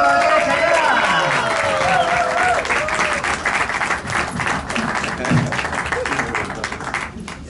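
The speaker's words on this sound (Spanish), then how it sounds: "Señoras y señores, un fortísimo aplauso para Basilio Rodríguez Ayala." An audience at an awards ceremony in a Madrid casino hall claps strongly and continuously, dense applause filling the room while a voice speaks faintly over it.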